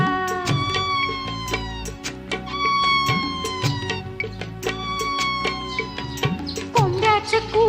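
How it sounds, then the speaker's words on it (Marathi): A cat meows repeatedly and close, with drawn-out, wavering cries in a loose rhythm and a more strained, caterwauling note near the end, with no talk over it. "मांजराचं म्याव म्याव ऐकलंस का"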